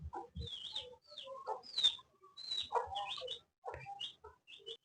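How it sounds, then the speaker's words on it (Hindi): Pet chickens cluck and chirp close by in short, uneven bursts with brief pauses between calls, with no one speaking. "ये रहे हमारे चूजे प्यारे प्यारे।"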